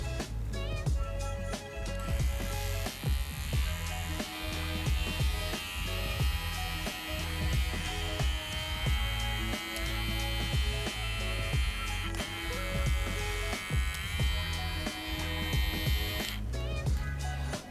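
An Indonesian-brand electric hair trimmer runs at its first speed setting of 5500 RPM, giving a steady, close, droning buzz with a rich hum that holds unbroken throughout, with no talking.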